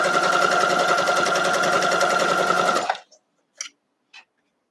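Sewing machine chain piecing Santa quilt blocks: a fast, loud, even needle clatter for about three seconds, then it stops and a few soft clicks of handling the fabric follow.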